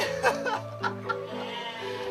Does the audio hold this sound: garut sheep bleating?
yes